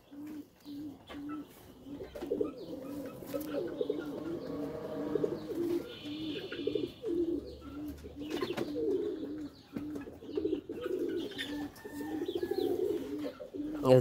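Pakistani breeding pigeons coo steadily in a loft, with low, throaty rolling calls repeating close by throughout, plus a few faint chirps mixed in.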